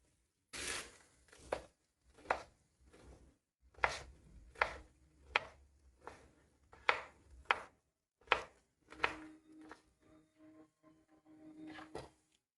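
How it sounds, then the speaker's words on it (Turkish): A knife finely chops cabbage with sharp, fairly even strokes on a board, about a dozen close knocks with short gaps between them. "Lahanaları ince ince doğradım."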